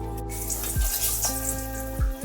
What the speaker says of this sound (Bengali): মাছ ভাজার তেলের মধ্যে দিয়ে দিচ্ছি একটু মেথি ফোড়ন।